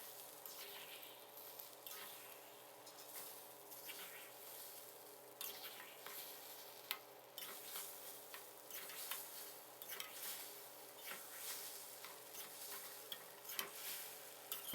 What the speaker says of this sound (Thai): แล้วก็เราผัดให้เข้ากันนะครับ ผัดให้ไข่ของเราสุกเลยนะครับ